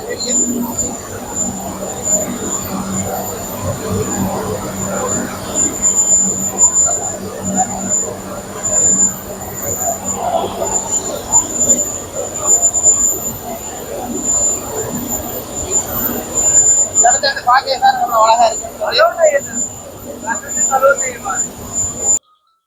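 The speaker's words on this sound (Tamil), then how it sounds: "சரியான வேகமாக தான் கப்பல் போய் கொண்டு இருக்குது" Steady engine drone and rushing hum fill the cabin of a passenger ship under way between Kankesanthurai and Nagapattinam, loud and continuous beneath someone talking throughout.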